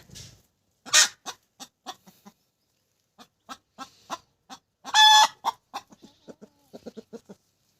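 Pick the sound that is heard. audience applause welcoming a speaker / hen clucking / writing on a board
hen clucking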